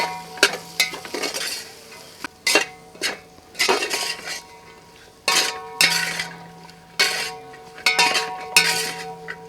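Pavta beans and spices stirred in a metal pot, with repeated scraping and clinking of a spoon against the pan in bursts over a soft background sizzle, fairly close.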